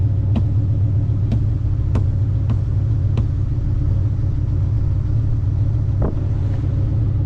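A 1963 Pontiac Catalina engine runs with a steady, loud low rumble as the transmission is thrown into reverse, with several sharp clicks or knocks punctuating the idle.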